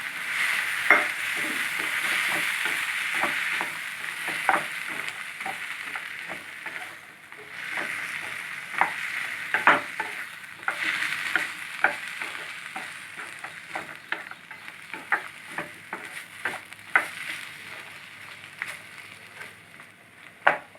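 Tomato puree frying in a pan for a hotel-style phool makhana curry gives a steady, close sizzle with frequent small pops and clicks throughout, without anyone speaking.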